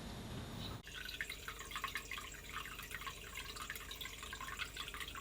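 Water runs and drips into the bilge of a sailboat with a damaged keel, a faint, steady trickle with small splashes, starting after a short burst of other noise.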